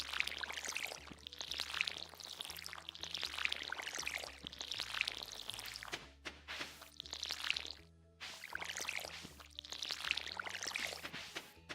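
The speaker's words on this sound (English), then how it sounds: "Water the crops. Watering the crops." A watering can pours steadily on crops in Stardew Valley in repeated bursts, each lasting a couple of seconds with short pauses between, over a low synthesized game tone.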